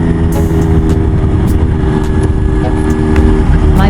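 Smart motorcycle prototype Mark I riding along, a steady close engine drone with constant low rumble and wind noise throughout, no speech.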